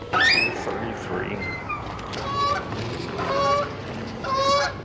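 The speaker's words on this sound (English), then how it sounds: "You hear those silly goose?" Geese honk repeatedly outdoors in a series of nasal, rising calls at moderate distance, heard over a background of people talking.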